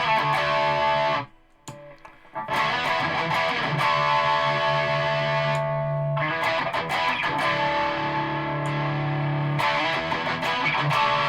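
Electric guitar played through a REVV G3 distortion pedal, loud saturated chords and sustained notes with a brief pause near the start, then continuous heavy driven tone.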